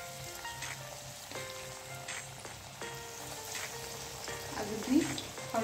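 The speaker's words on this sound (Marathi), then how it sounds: "आणि मध्यम आचेवर आपल्याला फ्राय करून घ्यायचे आहेत" Dal vadas deep frying in hot oil in a kadhai over medium heat, a steady soft sizzle with light crackling bursts running throughout, close by and fairly quiet.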